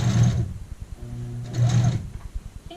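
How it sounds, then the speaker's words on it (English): Sewing machine back stitching a skirt waistband: short runs of rapid mechanical stitching with a whirring motor hum, stopping and starting as the stitch reverses, close and loud with no talk. "Let's do a little back stitch."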